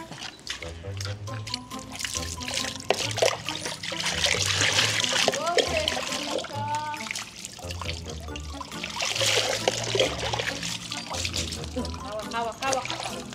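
Water splashing and trickling steadily while a corgi dog is bathed, with continuous pouring and splatter close by under ongoing talk.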